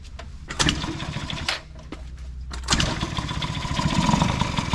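Small pit bike engine kicked over and catching: a sputtering attempt, a brief stall, then the single-cylinder motor fires up and revs into a loud, steady buzzing idle close by.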